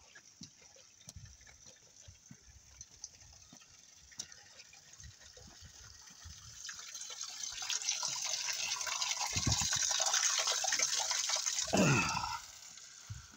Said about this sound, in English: there's a river going down my, down the road in front of my house